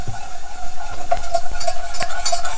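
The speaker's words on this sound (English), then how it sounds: "So a little bit at a time, and then just keep stirring." A spoon stirs milk into a cheese sauce in a pot, giving soft repeated scraping clicks over a steady background hiss, close and fairly loud, with no talking.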